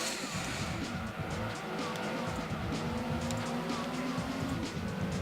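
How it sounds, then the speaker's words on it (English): A race car in the Gran Turismo 2 video game slides with a continuous high tire squeal over a steady engine drone, with speech mixed in. "This car tends to slide quite a bit."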